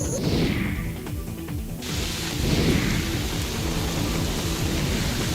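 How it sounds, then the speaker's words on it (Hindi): Heavy rain pours steadily in Delhi with loud thunder cracking and rumbling over it, a dense close hiss punctuated by booming crashes. "दिल्ली में भारी बारिश मुसीबतों का सबब बन गई।"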